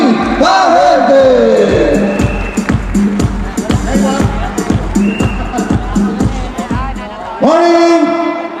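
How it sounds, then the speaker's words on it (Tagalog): Crowd at a success-sharing awards event cheering and shouting with rhythmic clapping, loud and close throughout, with a burst of louder cheering near the end. "Bigyan natin ng bilyon-bilyon palakpak para kay Mr. Giovanni Bahente!"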